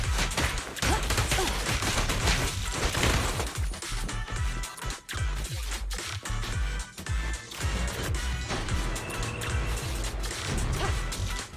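Dense video game gunfire during an ambush, continuous bursts and impacts with crashing hits layered over a loud game soundtrack, no clear pauses in the barrage.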